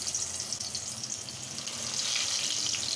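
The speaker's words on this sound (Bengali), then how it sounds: "এখন আমি এটা খুব সুন্দর করে ফ্রাই করে নেব।" Eggplant slices fry in hot oil in a pan, giving a close, steady crackling sizzle that grows slightly louder toward the end, with no speech over it.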